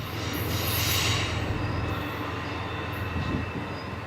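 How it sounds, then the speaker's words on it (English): Amtrak Coast Starlight passenger train rolling into the small town of San Luis Obispo, a steady, loud low rumble of wheels on rail with faint high squeal and hiss throughout, no voices. "the Coast Starlight rolls into the little town of San Luis Obispo, the next scheduled stop"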